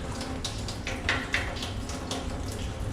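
Tap water runs steadily over vegetables in a kitchen sink, a continuous close splashing hiss with small shifts as the produce moves under the stream.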